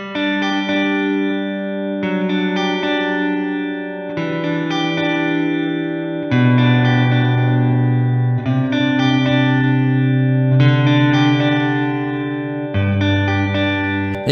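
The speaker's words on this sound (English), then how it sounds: "Let's take a look at this electric guitar part here, and I've got a plate reverb applied to it" An electric guitar with plate reverb plays sustained chords drenched in reverb, its low notes building into a thick, muddy wash.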